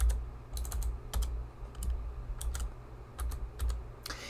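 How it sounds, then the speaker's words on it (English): Rapid, uneven clicking of keys on a computer keyboard, close and fairly quiet, with short pauses between bursts and no talking. "Am I still typing?"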